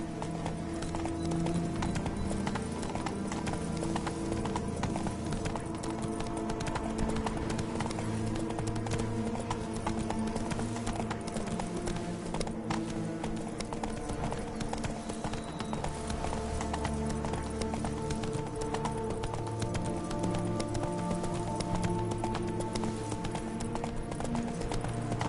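Roach, the horse in The Witcher 3, gallops with steady rhythmic hoofbeats throughout, loud and close over a continuous game music and ambient bed, with an occasional faint whinny.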